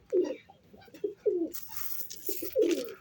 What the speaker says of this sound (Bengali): এই যে আমার টেডি কবুতরগুলো নামতেছে